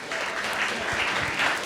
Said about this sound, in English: So a round of applause to our panelists